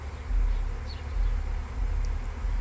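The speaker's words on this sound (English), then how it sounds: "I caught another bee swarm without even lifting a finger" A honey bee swarm buzzes around a hive in a backyard bee yard, a steady low droning hum of many bees up close, with no voices.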